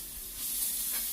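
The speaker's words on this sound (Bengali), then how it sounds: "পেঁয়াজটা একটু নেড়ে নিয়ে এতে দিয়ে দিলাম 4টে কাঁচা লঙ্কা কুচি আর অর্ধেক ক্যাপসিকাম কুচি।" Chopped onion, green chilli and capsicum being stirred in a frying pan, giving a soft, steady sizzle with faint scraping, close up and alone for a brief moment.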